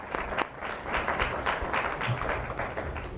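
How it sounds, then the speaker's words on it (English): A round of applause rises from an audience at a school district board of trustees work session, a steady, moderately loud patter of clapping hands that continues throughout with no speech. "We'll give her a round of applause."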